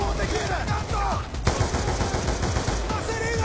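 Rapid automatic rifle fire from an AK-47-style hybrid weapon in the Call of Duty Black Ops 2 campaign, dense back-to-back bursts of sharp shots with game action sounds layered underneath.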